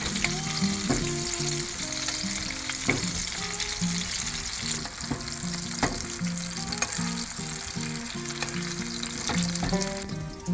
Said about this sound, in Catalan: Amb una cullera els anem ruixant amb la mantega fosa.